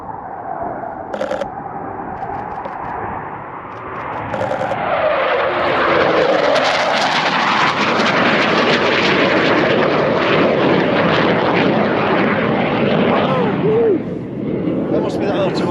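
A Eurofighter jet roars through the Mach Loop valley, its sound swelling from a distant rumble into a loud, close, sweeping roar that pitches down and then fades away.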